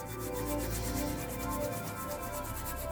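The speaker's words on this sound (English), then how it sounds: "Give it another little rub" A small needle-felted wool heart is rubbed to remove fine fibres, making a continuous close, soft scratchy rubbing noise that runs steadily for a few seconds with no talk.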